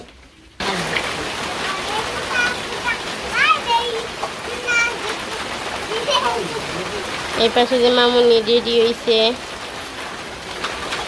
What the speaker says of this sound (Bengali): এই যে কি বৃষ্টি নামছে